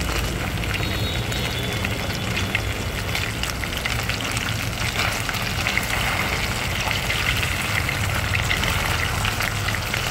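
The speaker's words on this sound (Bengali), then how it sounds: "এই মাছগুলো একটু টাইম দিয়ে ভাজতে হবে।" Lote fish frying in hot oil, a dense, continuous crackle and sizzle of spitting oil heard up close and fairly loud throughout, with no talking.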